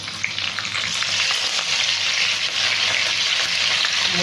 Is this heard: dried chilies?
yes